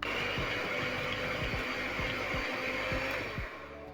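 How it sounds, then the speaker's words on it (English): An electric hand mixer creams margarine and sugar in a bowl, a steady loud whirring motor with repeated soft knocks of the beaters against the bowl, continuous for several seconds before easing slightly at the end. "Using a mixer, I'm going to mix in my margarine and sugar until combined."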